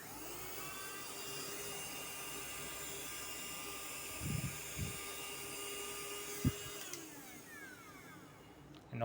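A 2 in 1 vacuum cleaner sucks up dust on a hard surface with a steady high motor whine throughout, with a few brief knocks and bumps near the end.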